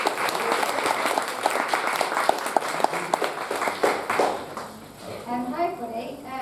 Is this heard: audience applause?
yes